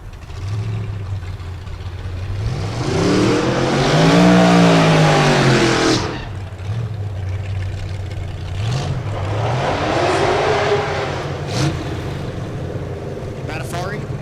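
A drag racing truck on an S10 chassis with a big block Chevy engine roars loudly, its pitch climbing then falling as it passes, followed by a second rising rev, with crowd and announcer noise under it.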